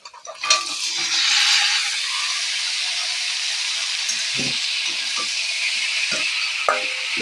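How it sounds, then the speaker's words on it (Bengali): Onions and mixed spices fry and are stirred in a kadai, giving a steady loud sizzle with close scraping and knocks of the spatula against the pan. There is no talk. "দিয়ে এখন লাড়িয়ে নেব ভালো করে ধরে নয়তো কড়াইটা উল্টে পড়ে যাবে"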